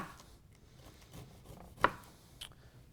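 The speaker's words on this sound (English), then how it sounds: "still using our claw method and slicing down the cobs" A knife slicing corn kernels off the cob, soft scraping strokes with one sharper crisp cut near the middle and a lighter one after, close and quiet with no talking.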